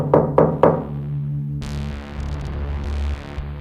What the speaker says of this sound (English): I think I hear someone knocking on my door now.